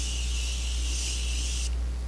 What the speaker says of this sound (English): Oh wait, I forgot to spray it all.